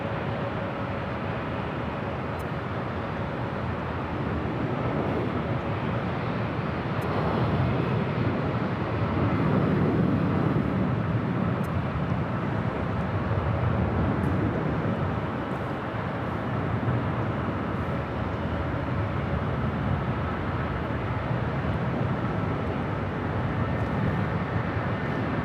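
American Airlines airliner at LAX airport, a steady broad jet roar heard from a distance that swells and fades slightly over about twenty-five seconds, with no talk.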